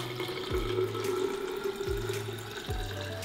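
Tap water running steadily into a drinks flask at a kitchen sink, a continuous close hiss of filling with the pitch shifting slightly as the vessel fills, a few brief knocks in between, no talking.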